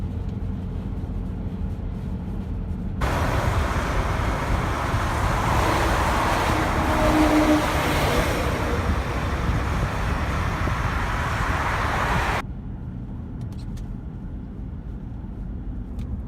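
A BMW X5 diesel drives up a freeway on-ramp in nasty weather, its road and engine noise swelling suddenly into a loud, steady broadband rush for about nine seconds before dropping back to a quieter cabin hum.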